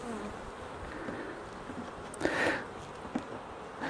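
Honeybees buzz in an opened beehive, a soft, steady drone of many insects close by, with a few brief louder passes from individual bees.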